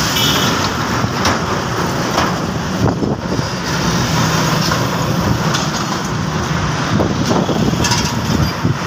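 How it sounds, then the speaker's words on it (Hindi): Heavy road traffic runs alongside the seafront in Karachi on a busy Saturday, a dense, steady roar of cars, buses and trucks passing nearby with no pauses. "आज सैटरडे हफ्ता है तो आज ट्रैफिक आज इधर बहुत ज़्यादा है"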